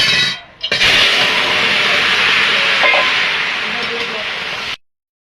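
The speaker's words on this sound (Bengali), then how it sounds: "তেলটা গরম হয়ে গেছে, কটা রাঁধুনি ফোড়ন দিয়ে দেব" Radhuni seeds drop into hot oil for tempering, bursting into a sudden loud hiss that holds steady and close for several seconds before cutting off abruptly.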